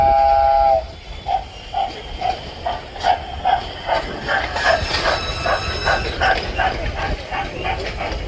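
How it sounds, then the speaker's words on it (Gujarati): A train at Atal Sarovar in Rajkot gives a short whistle, then its rolling wheels clack in a regular rhythm along the track. The sound is fairly close and steady, with faint voices in the background. "ચાલો જો ટ્રેન આવી ગઈ છે બધી ટ્રેન."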